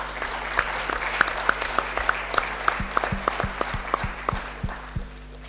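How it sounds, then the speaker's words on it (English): A round of applause from a small roundtable audience, made of separate distinct claps in a loose, uneven rhythm, each crack standing out over a low electrical hum. "Give yourself as well a big round of applause because you have been fantastic."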